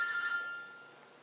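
A mobile phone rings with a brief electronic trill that fades out quickly, clear and fairly close.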